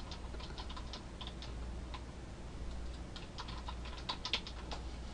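Quiet, rapid clicking of computer keyboard keys in an irregular typing rhythm over a low steady background hum, with no one talking.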